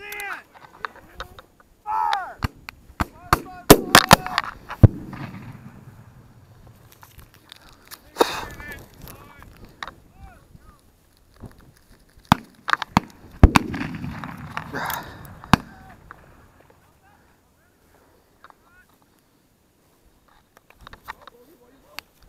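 Musket volleys crack out at a Civil War battle reenactment in Pinckneyville, Illinois, with loud ragged bursts of gunfire in clusters and scattered single shots between shouted commands.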